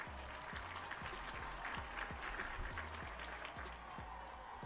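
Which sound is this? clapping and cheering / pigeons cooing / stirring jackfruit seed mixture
clapping and cheering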